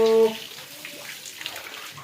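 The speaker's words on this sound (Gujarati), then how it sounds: "પાણી કર નાખવું પડશે બંધ, નહીં તો આપણું ઓલું થઈ જશે ખાલી." A short tone opens, then a soft, steady trickle of running water with faint drips, fairly quiet and close.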